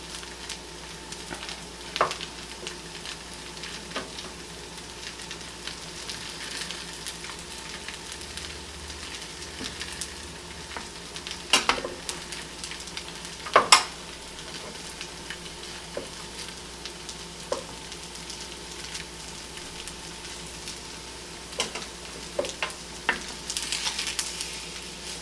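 French toast stuffed with strawberries and cream cheese fries in a pan with a steady close sizzle, broken by occasional sharp pops and crackles, no talking.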